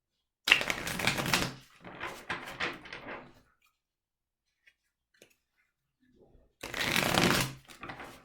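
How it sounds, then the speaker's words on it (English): Tarot cards from a Crow Tarot deck being shuffled in two loud, close bursts, a longer riffling stretch at the start and another near the end, with scattered softer card handling in between. "the shuffle felt very light and easy"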